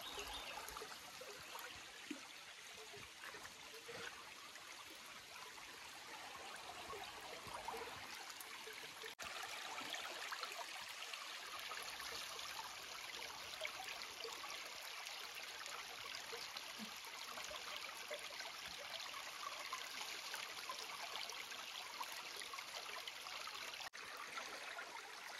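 A river stream flows steadily near farm fields in the Konkan countryside, a continuous soft rushing and gurgling of water that stays even throughout, fairly quiet and close, with no voices.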